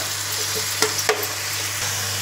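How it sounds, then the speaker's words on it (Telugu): Sliced onions with ginger garlic paste fry in hot oil in a pan for a Telugu fish fry curry, a steady close sizzle broken by a couple of faint clinks of a spoon stirring. "ఇది బాగా ఫ్రై అయిన తర్వాత అల్లం వెల్లుల్లిపాయ పేస్ట్ వేస్తున్నానండి. ఇది కొంచెం మగ్గనిద్దాము ఉల్లిపాయలని ఆయిల్లో."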